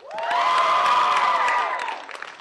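A crowd at a country auction bursts into cheering and clapping, a loud swell of whoops and applause that peaks then tapers off into scattered claps.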